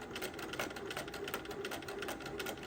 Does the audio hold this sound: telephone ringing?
no